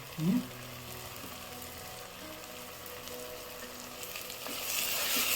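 Fenugreek leaves sizzle and crackle in hot oil for a green peas pulao, with a short clatter at the start and the frying growing louder toward the end.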